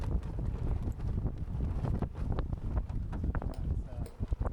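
Steady wind rushes and buffets across the microphone aboard a Shrimper 19 sailboat freshening at sea, with a broad continuous roar and occasional gusty thumps, no talk over it.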